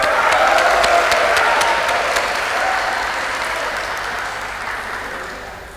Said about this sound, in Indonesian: Aplaus untuk Bung Sae.